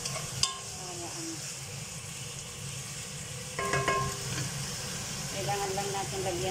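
Bitter gourd and sliced pork frying in a pan, a steady close sizzle with intermittent clinks and scrapes of stirring, while a voice talks over it.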